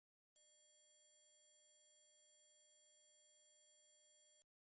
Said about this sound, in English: If you heard this high-frequency sound